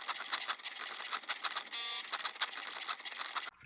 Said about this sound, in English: I used my Cricut Joy Xtra to cut out my stencils on some smart vinyl that I had